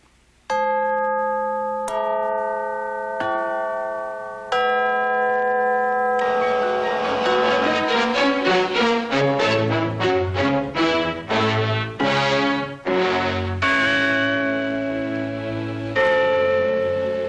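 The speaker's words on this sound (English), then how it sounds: "We've used them whenever we needed chimes and clarion" Chimes used in Disney film sound effects ring out as single struck tones at first, then shift to quick ringing melodic runs with long metallic decay, bright and close with no voices.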